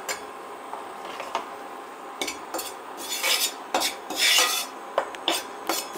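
Flour roasting in a pan for white pasta, stirred with a metal utensil that scrapes and rasps against the pan in irregular strokes, close and fairly quiet, with clinks between movements and no talking.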